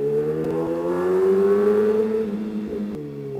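A 2019 Kawasaki ZX-636R motorcycle engine holding a strong harmonic drone that climbs steadily, then briefly dips with a sharp quickshifter cut before pulling again, loud and near.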